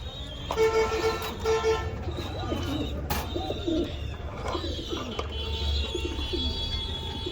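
Red Lahori fancy pigeons cooing in their loft in cold weather, several soft throaty coos repeating in bursts, close by over a steady background hum with faint passing traffic.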